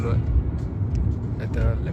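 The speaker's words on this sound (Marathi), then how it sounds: "मी आता कॅब करूनच चाललो आहे." Inside a cab in Warsaw, a low steady road rumble and engine hum fill the cabin while someone talks over it.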